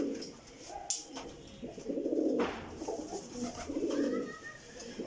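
A Sialkoti flying pigeon coos close by in low rounded bursts, with a louder coo near the middle and another toward the end, and faint chirps and background noise between them.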